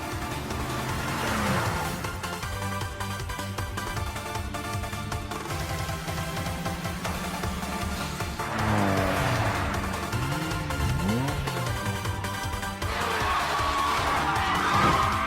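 Animated racing cars roar past continuously, engines whining and tires squealing, with the sound rising and falling as they pass.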